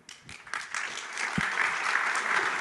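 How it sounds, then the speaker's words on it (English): An audience at a fireside chat event starts clapping in scattered bursts, then swells into sustained, even applause that holds strong to the end. "They're pre-clapping for your question"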